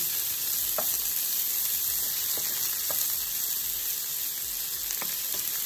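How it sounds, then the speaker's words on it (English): Scotch bonnet peppers sautéed in a pan with red onion, green peppers and garlic, making a soft, even sizzle with a few faint utensil clicks and a thin high whine, no voices. "We're going to give this a saute."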